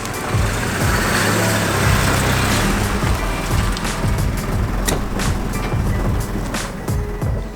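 A car engine, caught on its first try, runs close and throbbing with uneven low pulses and some rattle, holding steady throughout.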